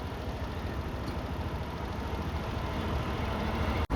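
A bus engine on a rural road through rubber plantations toward Seethathodu, a steady broadband rumble with wind-like roar, ending in a brief abrupt cut.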